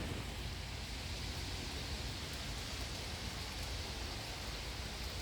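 Heavy rain in Chonburi, Thailand, pouring steadily outside a restaurant storefront. A dense, unbroken hiss and roar of downpour that stays loud and even throughout, with no voices over it.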